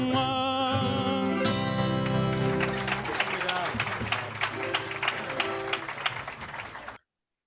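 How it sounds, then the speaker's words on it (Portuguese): Audience applause at a live fado performance recorded in 2017, steady clapping that starts under the closing music and rises as the music ends, fairly close, then cuts off abruptly. "Ouvir um pouco das palmas"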